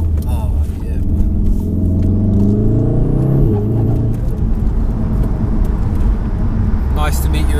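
A 600 bhp VW Golf 5 R engine rumbles loudly and close, its note rising in a rev around the middle, with a steady deep roar throughout and faint voices in the background.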